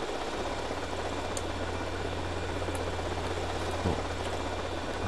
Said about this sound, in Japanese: ラジコンヘリで4つのターゲットに爆弾を運べ。